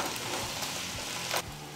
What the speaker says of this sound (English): make sure that you stir it